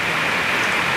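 Heavy tropical rain pours steadily over Puna, a dense, continuous hiss of drops drumming on surfaces close by, loud and unbroken with no voices.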